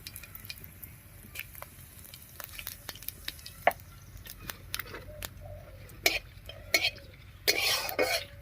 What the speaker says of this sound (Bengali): তেল গরম হয়ে গেছে, এবারে একটা শুকনো লঙ্কা, একটা তেজপাতা আর গোটা জিরা দিয়ে ফোড়ন দেব